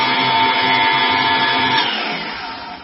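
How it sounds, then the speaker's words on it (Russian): An electric mixer runs at low speed through chocolate cake batter, giving a steady, continuous whir that stays fairly loud and then eases slightly toward the end, with no talking. "Перемешиваем, это значит на небольшой скорости, тихонечко, чтобы оно просто немножко перемешалось."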